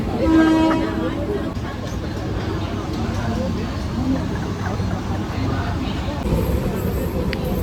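Steady rumble and rattle of a moving local train heard from inside a carriage, with a horn tooting early on and people talking under the noise.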